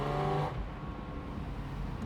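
Porsche 718 Spyder RS 2024 engine and exhaust, a loud droning roar that drops off abruptly after half a second into a steady, lower cabin rumble.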